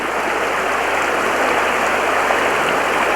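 Someone wading through a shallow stream in Slovenia: a steady, loud rush of flowing water fills the whole scene with no speech.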